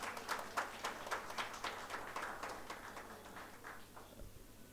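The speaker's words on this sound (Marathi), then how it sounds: "सरांसाठी एकदा जोरदार आपण टाळ्या करू." A room full of people claps for a speaker at a book launch ceremony. The applause is dense and fairly faint, with sharp overlapping hand claps that thin out and fade over the last second.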